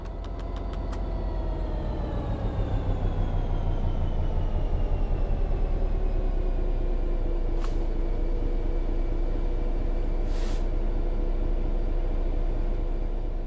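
A train coasts on level ground in Train Sim World 3 with a steady, heavy rumble and a humming drone that slowly sinks in pitch, broken by two brief hisses.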